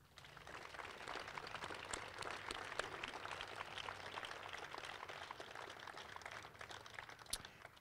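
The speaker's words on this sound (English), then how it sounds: "Can we just give them a round of applause?" A college audience applauding swimming and diving coaches at a team honors event, a faint but continuous patter of many hands clapping across the room.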